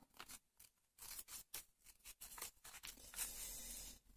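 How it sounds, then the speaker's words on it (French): Scissors snip through paper to cut out a flower shape for multi-layer rubber stamping, giving a run of close, crisp cutting snips and rustles with short pauses, with no talking. "je vais maintenant découper"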